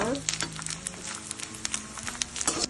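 Edible gum (dink) frying and puffing up in hot ghee for dry fruit laddoo makes a steady sizzle with scattered crackles and pops. It sounds close and busy, with a voice speaking faintly over it.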